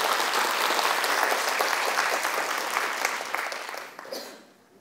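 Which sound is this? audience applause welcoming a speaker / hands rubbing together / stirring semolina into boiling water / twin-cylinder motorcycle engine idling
audience applause welcoming a speaker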